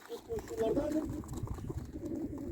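Crested domestic pigeons coo in low, soft murmuring calls close by, while people talk over and around them.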